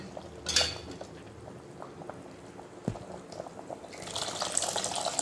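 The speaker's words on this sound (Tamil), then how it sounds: "இனி புளி ஊற்றலாம்" Tamarind water pours into a bubbling pot of fish curry: a brief splash early on, quiet simmering, then a longer stream of pouring toward the end.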